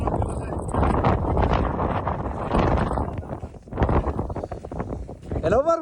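Wind gusts batter the camera microphone outdoors in snowy fell wilderness during a ski trek, loud rumbling buffets rising and falling throughout, with a voice speaking underneath.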